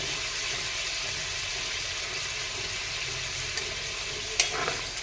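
Potatoes and broad beans with spices stir-fry in a pan, producing a faint, steady sizzle with one or two brief clinks near the end.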